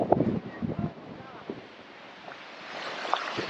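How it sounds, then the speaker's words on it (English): Gusty wind blusters across the microphone on the rocky summit of the Pinnacle Trail in Grayson Highlands, a steady rushing hiss. Short bursts of nearby talking come through over it. "It's a little windy."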